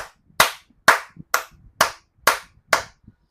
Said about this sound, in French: J'applaudis encore.